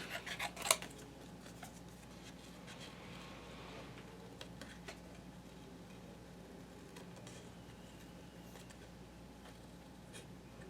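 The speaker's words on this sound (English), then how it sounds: "we're gonna cut these guys out" Scissors snip out paper card pieces in a quiet room, with one sharp, close cut near the start followed by soft, steady rustling and faint trimming sounds.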